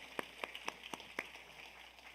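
A handful of scattered, sparse handclaps sound faintly in a church hall as a high-school worship congregation welcomes teachers, about six separate claps spread over two seconds before fading.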